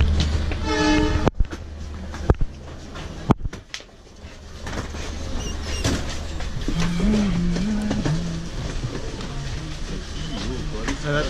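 Passenger train in India on the New Delhi to Agra line, heard close up at boarding with a horn blast, clattering carriage noise and bumps, while voices talk over the busy scene.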